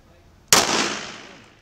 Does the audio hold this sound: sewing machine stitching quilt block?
no